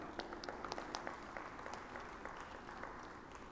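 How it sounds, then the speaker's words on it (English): A conference audience gives a presenter a sustained round of applause, a dense, even patter of many hands at a moderate distance with a few sharper claps standing out. "Please give him a big round of applause one more time."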